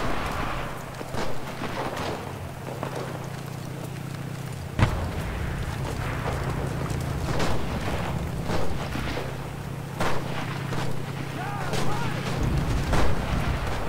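Sharp gunshots and distant artillery-like booms crack intermittently over a low rumbling battlefield in the Enlisted video game, with a person talking at times.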